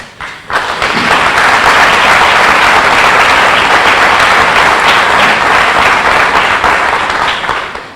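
Sustained audience applause at a scholarship awards ceremony, a dense, steady wash of many hands clapping that swells after a brief quiet start and holds loud and even to the end.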